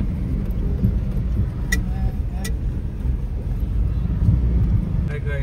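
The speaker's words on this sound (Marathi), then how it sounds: "त्या ब्रिजवर किती ट्रॅफिक आहे बघा" Steady road traffic rumbles across a bridge near the Jindal company on a rough, damaged road, a continuous loud low drone with wind noise and a few passing vehicle sounds.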